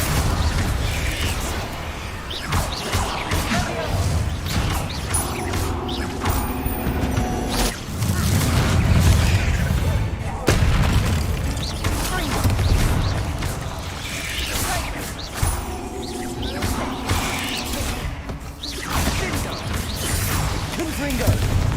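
Fire spells and blasts in combat in the wizarding video game Hogwarts Legacy: a steady, loud barrage of booming, whooshing magical impacts rolls on without pause, with a voice at times under the din.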